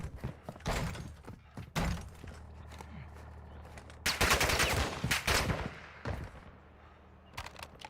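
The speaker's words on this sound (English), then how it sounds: "Yeah, shots. You hear that?" In Call of Duty DMZ, bursts of gunfire crack out in irregular volleys, some close and sharp, others rapid and clustered, with a louder fusillade midway and quieter pops near the end.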